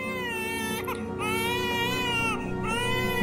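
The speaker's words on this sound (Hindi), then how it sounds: "सुना दे उनको इसके रोने की आवाज" An infant cries loudly and continuously in an indoor domestic scene, with drawn-out wailing cries broken by brief gasps for breath, close up and alone with no talk over it.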